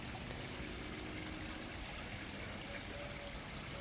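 Water from a koi pond filter shower trickles and splashes steadily, a continuous soft hiss of falling water with no breaks, heard alone without voices.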